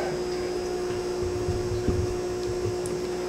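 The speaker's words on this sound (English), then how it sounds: "we are in the fish room and I'm running that central air pump." A central air pump runs steadily in a fish room, giving a constant mechanical hum with a fixed tone and a low rumble beneath it, with no talking.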